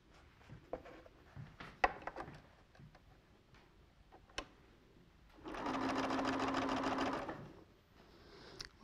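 A sewing machine runs in one steady, loud burst of stitching as log cabin quilt strips are fed through without pins, preceded by scattered soft handling taps and rustles.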